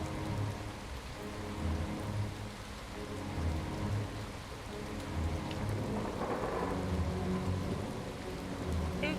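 A thunderstorm rages in the video game Far From Noise, with continuous rain hissing and rolling thunder rumbling in low swells, fairly quiet and steady with no speech.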